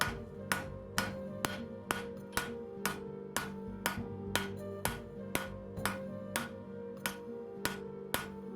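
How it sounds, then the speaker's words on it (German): Hammer blows shaping a hand-forged Viking-style knife blade from round bar stock on an anvil, a steady series of about fourteen sharp metallic strikes roughly every 0.6 seconds, each ringing briefly, close and clear with no talk. "schmiede ich mit der Finger von einem Hammer den Anfang in die Braten"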